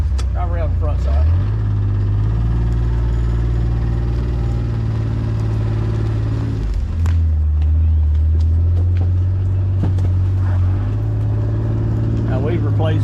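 A vehicle engine hums steadily and close by as it drives slowly around the front of a barn on a farm. The engine's low drone continues throughout, with a pitch shift about midway through.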